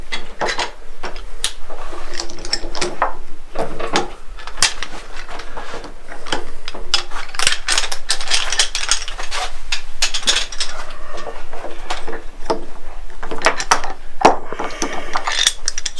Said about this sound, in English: So we're going to take the clamps off.